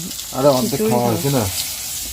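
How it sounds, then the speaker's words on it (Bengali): Dried fish (shutki) frying in a pan in the evening in a village kitchen, a steady close sizzle running through the whole stretch while a voice speaks over the middle portion. "ও হচ্ছে শুটকি মাছ ভাজা করতেছে সন্ধ্যাবেলা"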